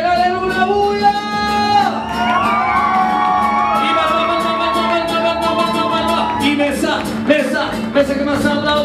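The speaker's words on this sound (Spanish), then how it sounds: "¡Me regalen una bulla! ¡Y más!" A lively crowd at a quinceañera whoops and shouts over loud brassy mariachi music, voices rising in excited bursts throughout.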